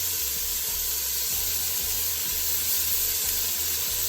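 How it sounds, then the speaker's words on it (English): Oxtails browning in a hot pan for a Jamaican oxtail stew give off a steady, close sizzle and hiss, with low rhythmic thumps running under it and no talking. "our oxtails are in the pan. We're gonna start turning them over. They're starting to brown."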